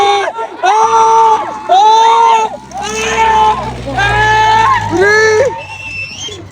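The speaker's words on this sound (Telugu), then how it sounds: "కొలంబస్ ఎక్కాక మనోళ్ళ కేకలు అయితే చూడండి ఎలా ఉన్నాయో." Riders scream and shout together aboard a Columbus swinging-ship ride at a fair, loud overlapping yells rising and falling in waves over a low mechanical rumble and crowd hubbub.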